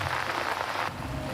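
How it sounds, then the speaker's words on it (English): Rain falls in the outback near a river system, a brief dense hiss of drops on surfaces, loud and close, easing slightly near the end, with no voices. "it looks like there's rain coming"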